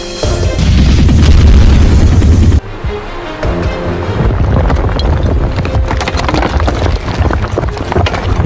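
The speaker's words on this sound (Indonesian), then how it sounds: "Pertarungannya menggunakan tenaga dalam sehingga menimbulkan ledakan demi ledakan." Heavy booming blasts from an anime fight rumble one after another, loud and dense, then drop briefly before more crackling explosions follow.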